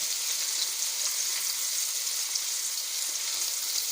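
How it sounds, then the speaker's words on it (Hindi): A chopped medium onion sizzles in hot oil in a pan for dhaba-style chana dal, a steady, dense frying hiss with crackle that holds evenly throughout, close and alone with no voices. "अब हम इसमें एक मीडियम साइज़ का प्याज, जिसको मैंने चॉप कर लिया था, वो इसमें डालेंगे"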